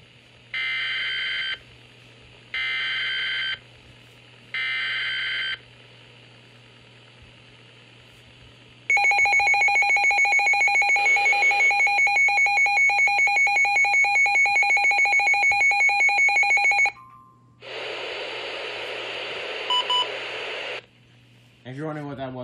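Midland WR300 weather radio sounding alerts for a convective outlook: three short bursts of tone, then a long steady piercing beep sequence, a burst of noisy data-like tone, and a closing buzz, loud and close.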